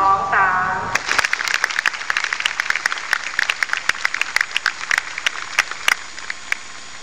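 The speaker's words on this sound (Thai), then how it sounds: "เดี๋ยวพี่นับ1 2 3แล้วปรบมือนะคะ" A group of students clapping on a count of three, breaking into a sustained burst of many hands applauding close by after a brief spoken count.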